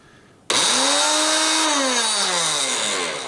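An old electric grinder grinding dried chili starts abruptly, then whines loudly and steadily as its motor pitch rises and slowly sags under load, running alone throughout.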